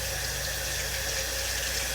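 Very cold tap water runs steadily into a sink over a makeup sponge being cleaned, a loud, continuous close-up gush with an even hiss and no breaks.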